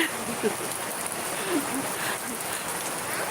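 Heavy rain falling outdoors in the Philippines, a steady dense hiss with scattered drops close by, while faint voices murmur underneath.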